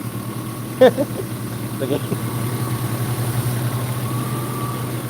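A 2.8-litre six-cylinder car engine idles steadily with a low, even hum, joined by brief clanks and a short spoken word near the start.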